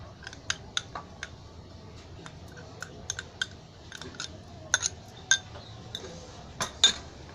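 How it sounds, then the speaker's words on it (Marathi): Ground masala gravy mixed by hand into a rawas (salmon) fish marinade, giving scattered sharp clinks and clicks of a spoon against a metal dish, close and uneven, over a quiet background. "हे सगळं आहे ना असं चांगलं घ्यायचं कालवून असं"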